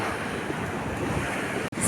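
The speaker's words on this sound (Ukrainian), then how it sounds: "такі сильні хвилі тут." Strong Atlantic waves on the Portuguese coast surging in a continuous loud roar mixed with wind buffeting the microphone, briefly cut off near the end before resuming.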